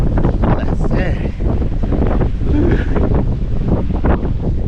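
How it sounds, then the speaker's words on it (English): Strong wind blowing across open sand at Valley of Fire near the White Domes trailhead, a steady loud rush buffeting the microphone throughout, with no clear talk over it. "All this wind."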